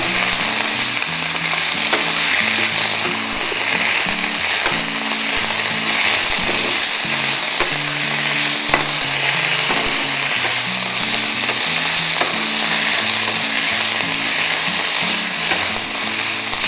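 Doddapatre (Indian borage) leaves frying in a pan give a loud, continuous sizzle, with occasional stirring clicks and scrapes, close up and unbroken throughout.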